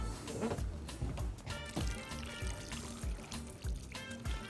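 Water is poured into a cooking pan that already holds tomato juice and tomato sauce, a soft, uneven splashing and trickling heard close up at low level.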